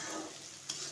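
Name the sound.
onions frying and stirred in pan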